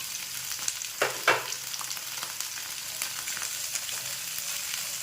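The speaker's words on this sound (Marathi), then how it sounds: "दोन ते तीन मिनटं आपल्याला हे चांगलं असं परतून घ्यायचं आहे भाज्या तेलामध्ये" Mixed vegetables for veg kolhapuri sauté in hot oil, giving a steady soft sizzle throughout with a couple of brief louder stirring scrapes early on, and no voices.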